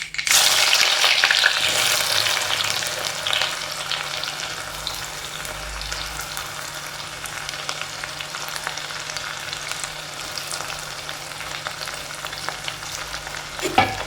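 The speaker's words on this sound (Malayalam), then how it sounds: "ഇനി നമ്മളിതിലേക്ക് ചെറിയ ഉള്ളി ഉണ്ടല്ലോ അരിഞ്ഞിട്ട് ചെറിയ ഉള്ളി പച്ചമുളകൊക്കെ ഇട്ട് കൊടുക്കും" Sliced shallots and green chillies go into hot oil in a pan for a ginger theeyal curry, with a loud burst of sizzling at first that settles into a steady frying crackle while being stirred.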